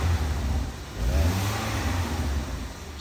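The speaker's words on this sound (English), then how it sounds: "Step on the gas. Just rev it up a little bit." Car engine revved during a vehicle inspection, a steady mid-pitched roar rising briefly near the middle and holding loud and close throughout, with no talk.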